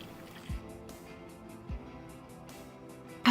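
Two soft, low gulps of water being swallowed, spaced about a second apart, close and quiet against a faint room background.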